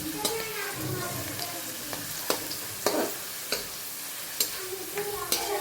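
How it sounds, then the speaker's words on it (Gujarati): Chillies fry in hot oil for poha chevdo with a close, constant sizzle, punctuated by sharp clicks and scrapes as a spatula stirs them every second or so. "મરચાં એકદમ તળવા દેવાના, નહીં તો હવાઈ જશે તમારો સેવડો."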